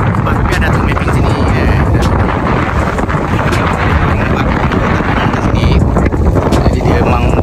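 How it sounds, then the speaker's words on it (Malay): Strong wind batters the microphone at a beach, a loud, continuous roaring rumble that never lets up and buries any other sound. "Sebab angin kok gila kan."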